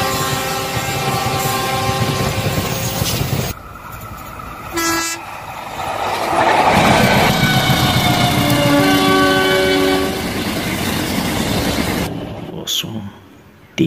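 A CC206 locomotive hauling a cargo train passes loudly nearby with a steady rumble and clatter of wagons, a horn blast sounding in the middle, while a voice speaks over it.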